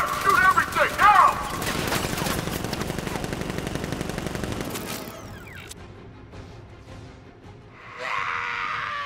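Guards open fire with automatic weapons in Batman: Arkham Knight, a dense, loud burst of gunfire that gradually fades, with a voice shouting over it at the start and mechanical noise rising near the end.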